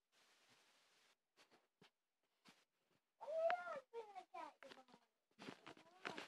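A cat meowing indoors while a baby feeds it, a few short rising meows near the mic after a quiet stretch of faint child sounds.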